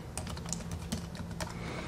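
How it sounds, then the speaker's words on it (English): Quick, steady typing on an Apple keyboard paired to a tablet or phone, close up and fairly soft, with light rapid key clicks and no talking. "So I'm going to type in, I am using the Apple keyboard."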